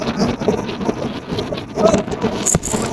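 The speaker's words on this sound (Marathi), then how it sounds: "पाऊस पडतोय" Rain falls steadily at a hilltop wind farm, a continuous loud wash of noise with a sharp crackle near the end.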